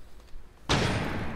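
A flashbang grenade goes off in the Rainbow Six Siege video game: after quiet movement, a sudden loud burst erupts and rings on as a sustained, hissing blast that fills the rest of the moment.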